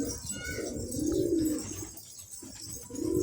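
Pigeons coo repeatedly while drinking water, making low, throaty, rolling calls that rise and fade in waves against steady background noise from the surroundings.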